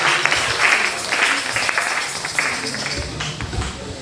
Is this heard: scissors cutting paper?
no